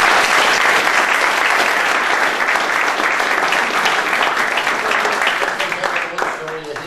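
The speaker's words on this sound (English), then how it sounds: "Give him a round of applause." Sustained audience applause at a live sports talk event, loud and dense from start to finish, tapering slightly at the end.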